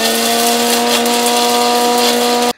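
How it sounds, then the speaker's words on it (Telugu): A mixer grinder grinds roasted spices into powder for tomato pickle with a loud, steady motor whine and rattling, running continuously before cutting off abruptly at the end. "మనం మిక్సీలో మెత్తగా గ్రైండ్ చేసేసుకొని పౌడర్ లాగా వచ్చినట్టు చూసుకొని"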